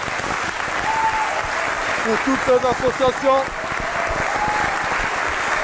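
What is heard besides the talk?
audience applause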